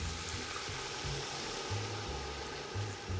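Pork with old-style mustard sizzles in a pan as it is stirred, a steady fry hiss with soft low scraping bursts from the stirring, close and alone.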